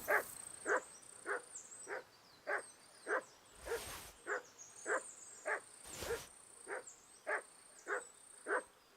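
A dog barks over and over in Kingdom Come: Deliverance 2, about fourteen sharp, evenly spaced woofs roughly every half second. They ring out clearly above a quiet countryside ambience, with two short bursts of rustling noise in between.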